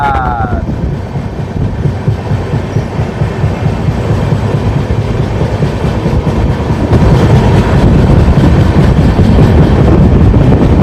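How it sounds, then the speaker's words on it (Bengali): The Sairang Express rushes along at high speed, giving a loud, continuous rumble with rhythmic wheel clatter that swells slightly toward the end, heard alone without talk. "প্রচুর স্পিডে চলে গাইজ ট্রেন, কিন্তু প্রচুর স্পিডে চলে"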